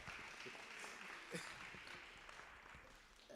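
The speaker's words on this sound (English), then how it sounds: "Let's give Prof a round of applause." Soft, distant applause from an audience at a university partner event, a low continuous wash of clapping heard faintly and briefly.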